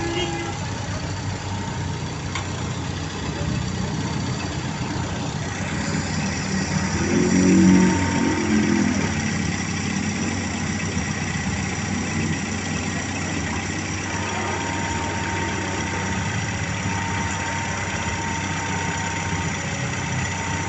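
A car engine idling steadily at about 900 RPM during warm-up, a continuous low rumble with faint mechanical ticking, while someone talks over it at times.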